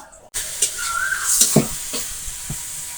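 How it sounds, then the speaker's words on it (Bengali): Ripe tomatoes fry with dried shrimp in a pan, a close, steady sizzle broken by intermittent stirring scrapes and spatters. "পাকা টমেটো ভাজি করতেছি চিংড়ির শুটকি দিয়ে"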